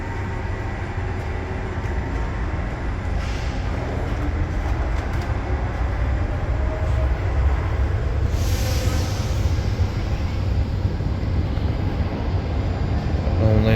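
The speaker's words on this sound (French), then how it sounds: "On a une rame qui part." A Paris Metro Line 10 MF19 train pulls away from the platform with a loud, steady rumble of wheels and motors, and a brief high squeal rises partway through.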